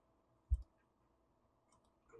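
A single mouse click confirms a dialog in SOLIDWORKS CAD software, a sharp faint tick alone in a quiet room, followed near the end by a soft rustle.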